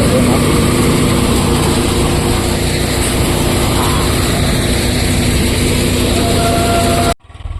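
A tractor-driven soybean threshing machine running in a field, a loud, constant droning engine and mechanical rumble with a steady hum throughout, cutting off sharply near the end.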